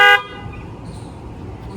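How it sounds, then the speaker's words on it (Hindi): A scooty scooter's horn honks once, loud and close, in a short bright blast that cuts off quickly into quiet background noise. "अभी आपको उसका हॉर्न सुनाते हैं"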